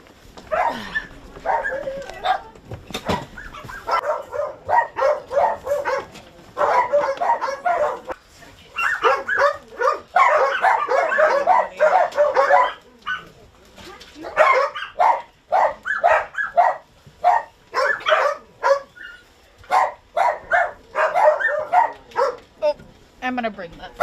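Several dogs bark and yip in quick, irregular bursts throughout as dozens of dogs are seized from a property in Michigan, with people talking close by between and over the barking.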